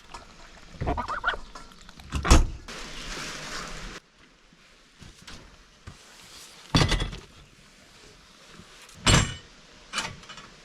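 Farmyard geese honking in the morning, a few loud separate calls a few seconds apart, with quieter rustling and background noise between them.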